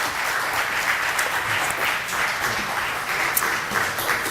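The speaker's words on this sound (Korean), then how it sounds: "우리 한 번 더 박수로 맞이하겠습니다" A church congregation applauds during a Sunday service, an even, sustained wash of many hands clapping together in a large room, with no break across the whole stretch.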